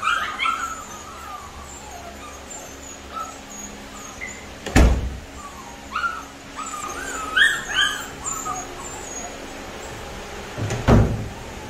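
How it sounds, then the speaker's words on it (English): A door shut in a room with puppies, giving two sharp thuds several seconds apart while the puppies whimper and yip throughout, fairly close. "I'm gonna shut this door."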